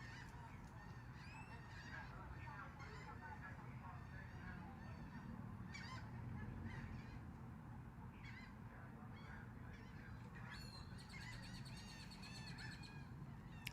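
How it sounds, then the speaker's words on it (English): Birds honking outdoors, repeated calls scattered across the stretch, fairly distant and faint over a constant low background rumble. "I like the birds. They're pretty keen."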